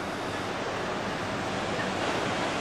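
Sea waves, heard from a hotel balcony overlooking the sea beside a pool area, roll in as a constant, broad surf wash, fairly close and even, with a little wind mixed in.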